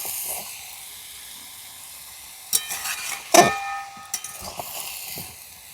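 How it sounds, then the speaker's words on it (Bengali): Spices and tomatoes are stirred in a pan for chicken stew, a low background hiss broken by a few sharp scraping and sizzling bursts near the end, with no talking. "এইভাবে 5 মিনিট মতো নাড়াচাড়া করে নেব।"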